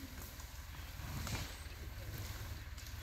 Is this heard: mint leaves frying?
no